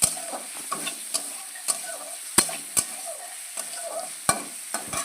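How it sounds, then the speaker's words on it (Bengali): Prawns fry in a pan of oil as a utensil stirs them, sharp metallic taps and scrapes striking at irregular intervals over a soft continuous sizzle, close and without speech. "এভাবে নেড়ে চেড়ে ভালোভাবে ভেজে নেব।"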